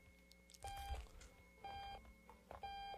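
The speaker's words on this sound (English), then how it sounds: "That beeping's getting on my nerves. End the beeping." Repeated electronic beeping in the video game Octodad: Dadliest Catch, three sustained tonal beep bursts in a steady pattern over quiet game background.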